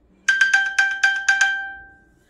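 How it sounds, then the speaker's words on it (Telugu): An iPhone's find-my alert chime triggered from an Apple Watch, a rapid run of seven bright pinging tones that then ring out and fade, loud and close with nothing else heard. "యాపిల్ వాచ్ నుంచి మనం మన ఫోన్కి సౌండ్ ప్లే చేసి ఎక్కడుంది అని డిటెక్ట్ చేసేవాళ్ళం కదా."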